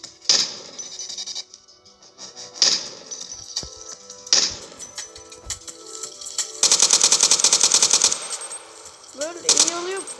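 Video game gunfire from a Minecraft TACZ gun mod: several loud single shots and bursts, then a sustained rapid automatic volley and a final shot, with quiet gaps between them.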